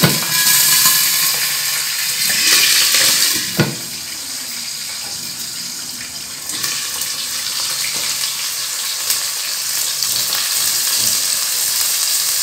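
Onions frying in oil in a pot for fish biryani, a steady loud sizzle and crackle throughout, with occasional clatter of a spoon stirring and a brief knock partway through.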